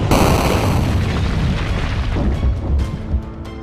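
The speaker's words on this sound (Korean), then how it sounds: "무너지는 소리" Buildings collapsing in a dense, loud roar of rumbling debris and crashing, sustained for the whole stretch with a few sharper cracks near the end.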